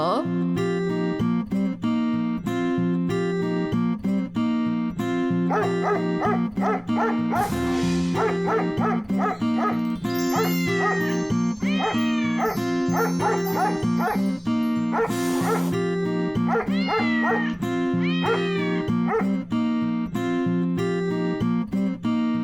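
A cartoon dog barks and yips at a thief who has entered the house, its short cries rising over continuous background music that plays throughout.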